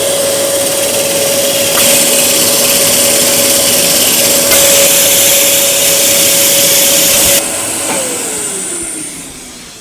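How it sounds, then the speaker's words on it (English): A dust extractor runs steadily and loudly while phenolic is machined, a constant whine with a steady tone that shifts briefly before winding down and fading near the end. "Phenolic makes an awful mess, so we definitely are going to use dust extraction here."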